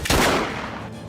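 A single loud, sharp gunshot in a Filipino drama film cracks right at the start, then fades into a lingering reverberant tail.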